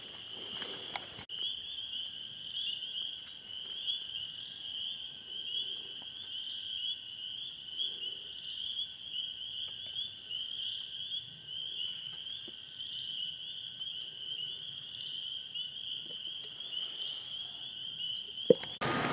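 A steady high insect-like trill fills the background, with a few soft, low clucking wood frog calls popping up now and then in a quiet outdoor night in Michigan.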